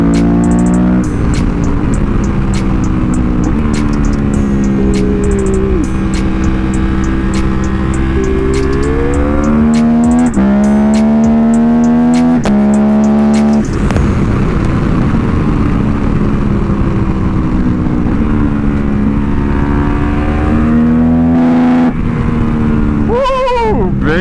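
A 2018 KTM 1290 Super Adventure R motorcycle ridden fast produces a loud, droning engine note whose pitch climbs and drops with each gear change, buried in heavy wind rush throughout.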